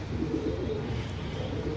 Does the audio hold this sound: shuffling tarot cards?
no